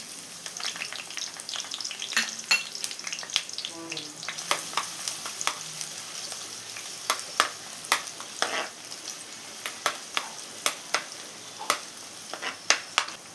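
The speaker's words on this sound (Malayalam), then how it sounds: "ഞാനൊരു 15 ചെറിയ ഉള്ളി കട്ട് ചെയ്ത് വെച്ചതാണ്, ഇതിട്ട് വാട്ടിയെടുക്കണം" Fifteen small onions sautéing in coconut oil in a pan for a Kerala fish curry give a soft, steady sizzle broken by frequent crisp pops and occasional utensil scrapes, close and fairly quiet, with no voices.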